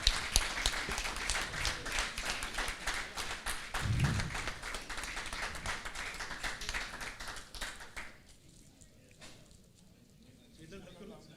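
Audience applause at a North American Urdu mushaira, a dense, steady patter of many hands clapping for about eight seconds before thinning out, with a low thump partway through.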